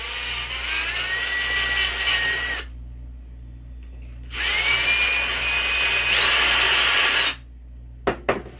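A power drill bores into plastic for a cooling jacket project in two loud, whining bursts of a couple of seconds each, separated by a quiet pause, ending with a few brief clicks.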